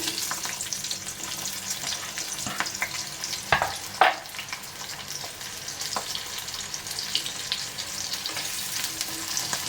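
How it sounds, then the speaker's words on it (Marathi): Chopped onion and green chili frying in hot oil and ghee in a kadai for soybean pulao, a dense, crackling sizzle close up with a couple of clinks of a spoon, no voices over it. "थोडंसं तूप घालूया इथे आपण एक मिरची टाकलेली आहे कापून कांदा टाकूया"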